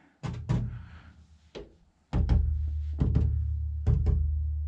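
Drums being struck one at a time to check their tuning, a close series of deep, resonant thuds in pairs and singles with ringing low tails and short pauses between hits, no talk.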